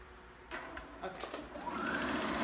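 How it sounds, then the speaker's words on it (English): A home sewing machine stitches a girl's school dress, starting with a few clicks and then running in a steady whir that builds toward the end, while a person talks over it. "If my sewing machine cooperates."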